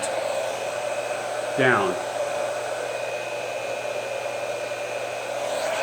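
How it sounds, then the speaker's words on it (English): A Babyliss Volare hair dryer blows steadily on its low setting with no heat, a constant close whoosh with a faint whine, while a voice briefly speaks over it. "one of the top 3 dryers in the world. It's by Babyliss. It's a Volare. Just incredible. Low setting, no heat."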